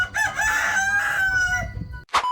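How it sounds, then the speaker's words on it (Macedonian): A rooster crows nearby, loud and drawn out, ending in a brief sharp squawk. "Мора да ви е петли"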